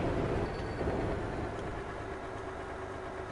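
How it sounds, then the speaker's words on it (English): A loud farm vehicle engine idles in Farming Simulator 22, giving a steady, droning low rumble with a faint tonal hum that runs unbroken and close, with no talk. "Oh man, I forgot this thing makes such a loud engine noise."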